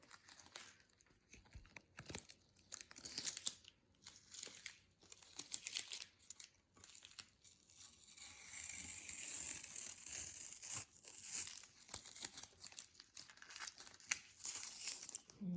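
Tape being torn and pressed down to hold paper on a fork-painting craft, quiet crinkling, tearing and rubbing noises in irregular bursts, close and alone.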